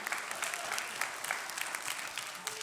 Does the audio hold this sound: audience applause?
yes